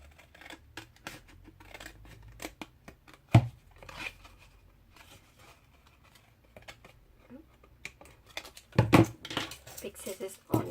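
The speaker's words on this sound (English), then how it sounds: "Big scissors are no good for that. Let's use the snips." Paper snips cut through card in a series of short crisp snaps and clicks, some close and sharp, under intermittent talk.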